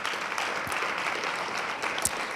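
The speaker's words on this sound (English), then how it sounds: "Can we please give them a round of applause at this moment?" Audience applause at a youth service awards ceremony, a steady dense clatter of many hands clapping at a moderate level, with a few sharper claps standing out.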